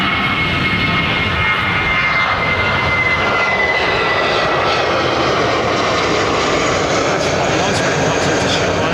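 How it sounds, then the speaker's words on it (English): A jet airliner roars at London Heathrow Airport, a loud, continuous engine rumble with a faint whine, steady and close throughout. "That aircraft."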